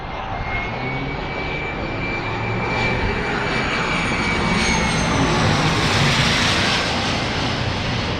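A private jet taxiing at San Diego airport gives off a loud, continuous turbine whine and roar, steady and close, swelling slightly toward the end, with a thin high tone running through it and no voices.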